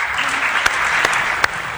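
Sustained audience applause fills a large hall, a loud continuous roar of clapping with a few sharp louder claps standing out near the listener.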